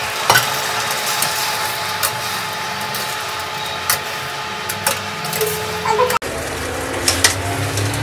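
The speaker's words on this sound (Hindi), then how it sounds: "मैंने इसमें पिसी हुई प्याज डाल दी है।" Ground onion frying in masala in a pan gives a steady, close sizzle, with occasional scrapes and knocks of stirring and one sharp clatter near the end.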